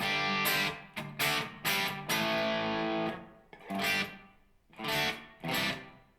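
An electric guitar played through a NUX pedal's hall reverb sounds in distorted bursts of notes and chords, each followed by a short, smooth reverb fade before the next phrase, with brief gaps of near silence between.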